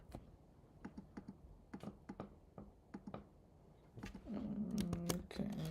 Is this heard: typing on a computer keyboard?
yes